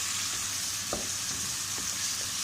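Gosht, pieces of meat, frying in a pot with a loud, dense sizzle and hiss throughout, a few scraping stirs cutting through near the middle, no voices.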